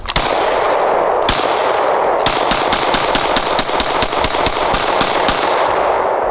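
Rapid semi-automatic shots from a 9mm Glock set in a Recover Tactical PIX+ carbine (an AR-style pistol-caliber conversion), a couple of spaced shots then a fast string of about a dozen loud, sharp cracks over steady outdoor range noise.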